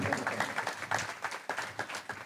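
A crowd claps together in a steady burst of applause, fairly close and continuous for a couple of seconds.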